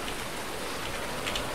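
Rain in the video game Farming Simulator 19, a steady even hiss of falling drops heard alone at moderate loudness throughout.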